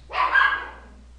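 One loud, near bark from a tiny black female Miniature Pinscher bursts out right away and fades over about a second, with no other sounds around it.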